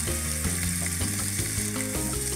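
Roma tomatoes and fresh garlic frying in a pan for beef birria give a steady, close sizzling hiss, with soft stirring and a tonal musical bed underneath.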